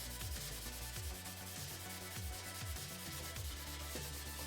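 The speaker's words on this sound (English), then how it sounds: "I just want to keep sanding until most of that primer's gone." Sandpaper rubs steadily back and forth to strip primer from a Carl Goldberg Extra 300 model airplane, producing a continuous rasping scrape with a quick, even rhythm. It is close and faint, and nobody speaks.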